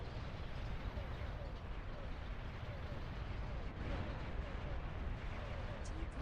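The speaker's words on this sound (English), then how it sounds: "Oh, bombing run." Bombing-run explosions in a video game, heard as a steady, rumbling roar of blasts and artillery-like booms that carries on without a break at a moderate level.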